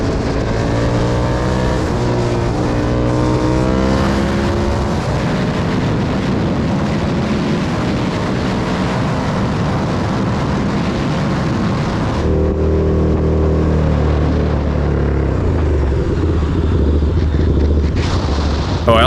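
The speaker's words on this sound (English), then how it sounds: "So enjoy the sounds of this bike, which are just absolutely incredible." A KTM 1290 Super Duke R motorcycle engine roars close and loud while riding, rising and falling through revs and gear changes, with rushing wind underneath and no talk.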